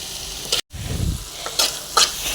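Tomato and green moong dal curry cooking in a pan just after water is poured in, a steady close sizzle with soft stirring scrapes and a few brighter hisses, no voices.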